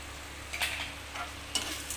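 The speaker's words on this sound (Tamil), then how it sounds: "புதினா கொத்தமல்லி தலை அரைச்சி பேஸ்ட்டு போட்டு நல்லா வதக்கிக்கலாம்" Mint and coriander paste with salt cooks in a pan, giving a quiet, steady sizzle broken by a few soft stirring scrapes and light clinks.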